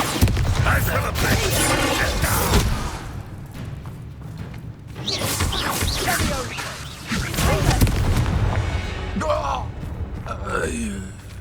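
A Bombarda explosion spell in Hogwarts Legacy lets out deep booms and rumbling blasts amid battle effects, with character voices speaking and gasping around the impacts and quieter gaps between bursts.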